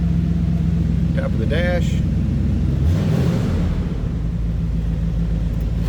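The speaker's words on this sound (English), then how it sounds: "I think I got it down off the higher idle." A 1972 Oldsmobile Cutlass Supreme engine idles with the choke on, a loud, steady, close rumble, while someone speaks briefly over it.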